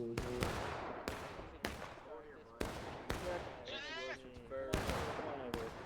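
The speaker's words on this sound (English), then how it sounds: "Ooh, bullets." Musket fire in the Civil War shooter War of Rights rings out as about eight loud, sharp cracks at irregular intervals, each followed by a short echo, with faint voices between the shots.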